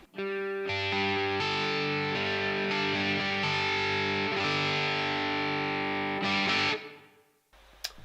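A distorted electric guitar through the Amped ML Plexi amp preset plays sustained chords with a wet, reverberant tone, loud and steady, then stops and the tail fades into near silence.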